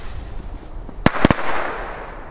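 Firecrackers from a rocket bag go off at New Year's, a single sharp bang followed by two quick cracks, loud and close, fading into crackling and hiss over a steady outdoor background.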